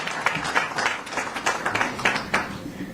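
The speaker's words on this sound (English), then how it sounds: "let's give them a round of applause for what they have done to build this African Union" An audience applauds at an Africa Day 60th anniversary celebration, a few seconds of moderately loud, fairly sparse clapping with distinct hand claps standing out against a softer crowd background.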